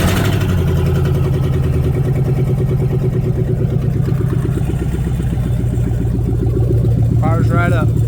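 A Dodge Dakota pickup with a swapped Magnum engine, running without coolant, fires up and settles into a steady, loud, rumbling idle with an even pulsing beat close by, and a voice is heard briefly near the end.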